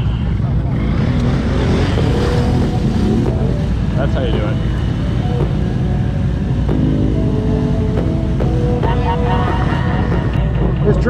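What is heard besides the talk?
twin-turbo methanol racing engine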